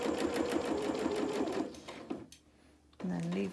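A sewing machine runs steadily along a fabric seam line for an advent calendar, giving a fast even rattle close by, then slows and stops, followed by a short pause and a brief final buzz.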